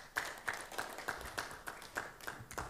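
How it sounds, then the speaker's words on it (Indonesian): Audience at an Indonesian political party event claps in a steady, fairly quick rhythm of sharp, moderately loud hits, sounding like a smaller group or a single nearby clapper rather than a large roaring crowd. "Berikan tepuk tangan"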